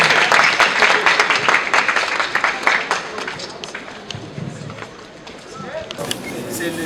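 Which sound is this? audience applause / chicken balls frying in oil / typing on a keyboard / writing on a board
audience applause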